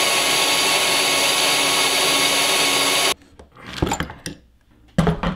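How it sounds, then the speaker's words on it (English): A saw grinds loudly and steadily through a hardened stainless steel lock shackle for about three seconds, then cuts off abruptly, leaving a few short clunks and handling knocks. "when my saw reached the hardened stainless steel shackle, things got way more difficult"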